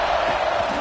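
Dense stadium crowd roar in an NCAA college football video game, a continuous loud cheering wash with no distinct individual voices, lasting under a second.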